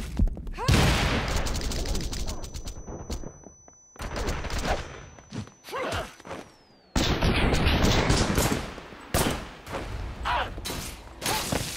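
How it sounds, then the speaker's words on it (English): Gunfire and a grenade blast in the Japanese-language action game Wanted: Dead, with heavy bursts of rapid shooting and booming impacts through most of the stretch, broken by brief lulls and under occasional shouted game voices. "Grenade!"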